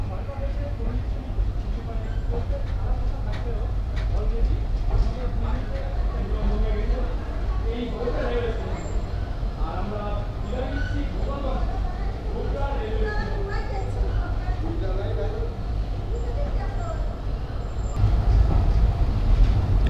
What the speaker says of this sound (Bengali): ছেড়ে দিল আমাদের এই Tungipara express train Gobra railway station থেকে